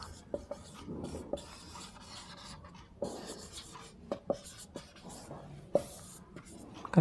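A pen scratches across paper while notes are written out, giving close, uneven scribbling strokes with a few sharper taps and short pauses.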